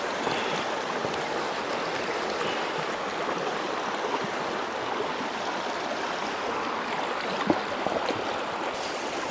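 Steady rushing flow of a river in the Canadian wilderness, a continuous broadband wash of moving water at even loudness with no voices.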